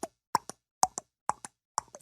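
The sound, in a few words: recorded tennis ball hitting sounds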